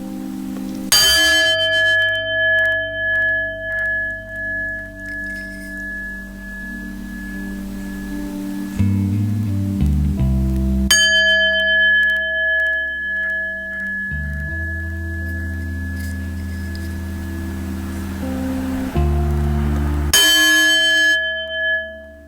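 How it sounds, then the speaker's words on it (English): A bell rung in a sequence of varying tones, struck several times with clear ringing strikes and sustained decaying overtones between them, loud and close with no talking. "I'm going to ring a bell with varying tones."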